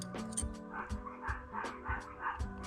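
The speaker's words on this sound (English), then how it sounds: "dogs are going crazy out there" Several dogs bark outdoors in quick, repeated yaps and whimpers, heard at moderate level and somewhat distant, mixed with a steady background hum.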